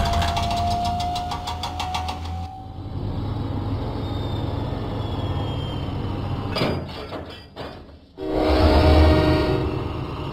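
Engine of Diesel, a diesel engine in a Thomas and Friends video game, chugging and rumbling steadily with clanking, hammer-like knocks and a brief whistle tone, ending in a louder burst of mechanical noise; no talking.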